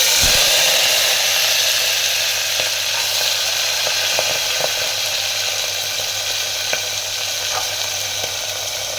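Cowpeas dropped into hot oil with asafoetida in a pressure cooker, giving a loud, continuous close sizzle with scattered crackles and pops that eases slightly over time, no voices.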